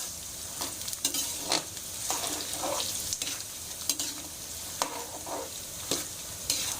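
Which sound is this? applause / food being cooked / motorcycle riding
food being cooked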